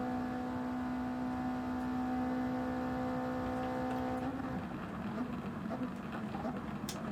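A 2013 Mercedes A45 AMG engine in Gran Turismo drones at a steady high pitch for about four seconds, then shifts into a rougher, changing growl. It sounds moderately loud and continuous.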